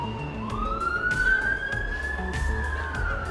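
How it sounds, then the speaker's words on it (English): A siren wails and rises steadily inside a Planet Coaster theme park, loud and continuous, with a rumbling vehicle-like bed and background music beneath it. "And there we go with the sirens."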